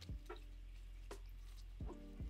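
Water splashes and drips onto a potted Anthurium plant in a few soft, scattered droplet hits, faint and close.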